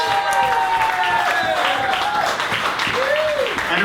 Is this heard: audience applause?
yes